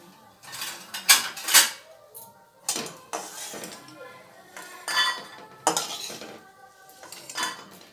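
Repeated clattering of a metal spoon against a pan and scraping through hot oil while lifting out fried lentil dumplings, in bursts separated by short pauses.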